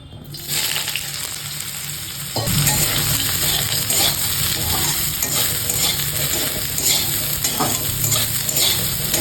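Food fries in a small amount of oil in a pan. A quieter sizzle jumps to a loud, continuous crackle partway through, with stirring scrapes and light metallic clinks close by.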